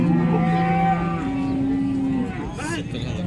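A cow gives a long, low moo nearby at a cattle market that fades out after about two seconds, with murmured voices and outdoor noise underneath.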